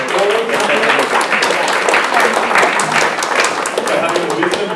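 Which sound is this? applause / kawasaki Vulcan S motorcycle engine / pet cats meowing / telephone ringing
applause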